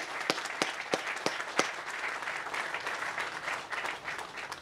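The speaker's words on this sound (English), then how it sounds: "Let's go around and applause for all the veterans." Audience applause for veterans at a public safety building groundbreaking ceremony in Brockton: steady clapping from a modest crowd, with a few sharp, louder claps standing out near the start, holding at an even level throughout.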